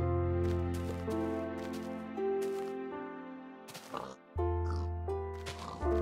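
Pig oinks in Minecraft, a few short grunts rising over a steady background of game music, with brief pauses and no talking.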